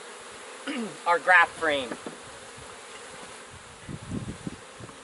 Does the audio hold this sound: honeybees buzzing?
yes